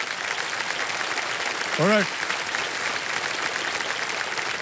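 Studio audience on the KBC quiz show claps steadily throughout, a dense even wash with a man's short spoken word briefly rising above it midway.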